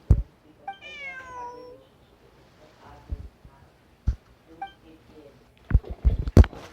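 Several distinct meows from a cat in Genshin Impact, clear and close, spaced across a quiet stretch with soft game music beneath and a few sharp clicks near the end.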